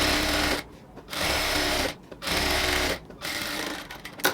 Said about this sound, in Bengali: এবার আমাদের কাজ হচ্ছে এখানে একটা চাপ সেলাই দিয়ে এটাকে ফিক্সড করে দেওয়া